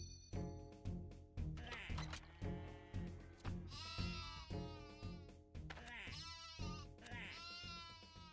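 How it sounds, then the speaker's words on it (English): Sheep bleat in the video game RuneScape 3, a rapid run of wavering, nasal cries repeating roughly every half second over a steady game background, loud and close throughout. "So many sheep noises."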